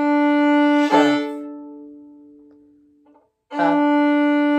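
Shuffle bowing on a bowed string instrument: a sustained bowed tone that slowly fades, a short break, then a fresh bow stroke with a sharp attack, played alone and close.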